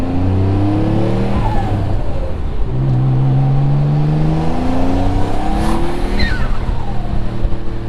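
Twin-turbo Mitsubishi 3000GT with upgraded adjustable wastegates accelerating hard, a loud, close engine note climbing steadily through the gears and filling the whole stretch without a break.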